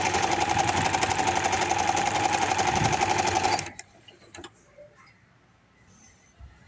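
A sewing machine runs a continuous rapid stitching rhythm along the sleeve seam of a baby boy's hoodie, loud and close for over three seconds, then stops abruptly, leaving a few soft handling clicks and near silence.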